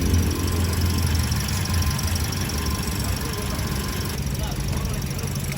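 Car engine idling roughly with heavy vibration in a workshop, a check-engine fault showing, giving a steady uneven low rumble with knocking and a faint squeal, close and continuous.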